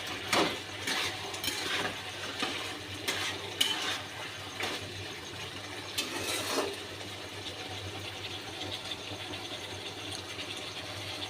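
Chicken kosha being lightly stirred in a pan after garam masala goes in, with a few soft scraping strokes early on before fading into a steady low kitchen hum.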